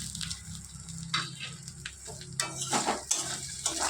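Chili and turmeric powder added to onions and spices frying in a pan for a Bengali silver carp curry, with steady sizzling broken by stirring scrapes and clinks of a utensil against the pan.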